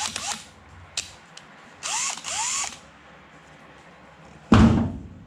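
DeWalt power drill boring out lug nut holes in 1970s Ansen Sprint aluminum mag wheels, heard as several short whirring bursts with a louder grinding burst near the end, no talk.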